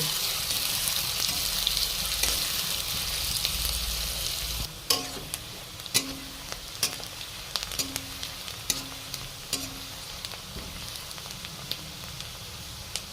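Chopped onions, two medium ones, fry in a pan for a paneer bhurji, a steady broadband sizzle throughout with occasional sharper clinks and scrapes of stirring in the second half.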